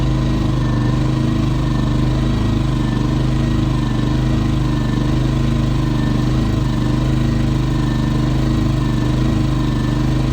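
A Champion generator engine runs steadily nearby, its mid-pitched drone swelling and sagging in a mild surge throughout, loud and continuous with no voices.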